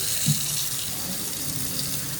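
Cold water runs steadily from a tap into a newly fitted IKEA sink in a workshop under construction, a continuous close splashing flow with no talking.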